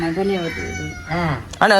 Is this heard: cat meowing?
yes